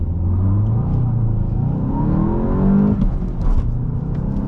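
A 2024 VW Golf GTI 380 SE pulls hard from a standstill in a 0-60 run, its engine rising in pitch through the gears with a clear shift partway through, loud and close from inside the cabin.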